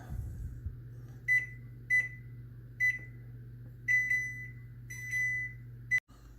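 An oven control panel beeps about seven times as the baking temperature is set to 325, short clear electronic tones spaced unevenly over a low steady hum.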